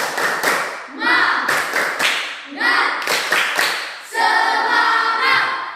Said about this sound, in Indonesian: tepuk semangat untuk kelompok B